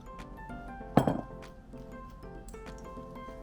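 Cake batter with sugar, vanilla and melted butter being stirred in a bowl, with light clinks of a utensil against the bowl's side, one sharper knock standing out among quiet scraping taps.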